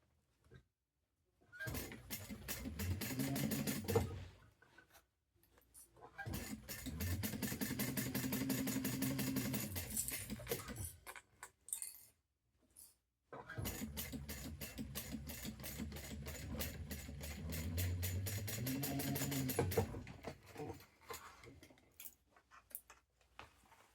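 A sewing machine stitches a seam on a bag in three long runs, each a steady, rapid mechanical rattle lasting several seconds, broken by short quiet pauses as the fabric is repositioned, close and fairly loud with no talk.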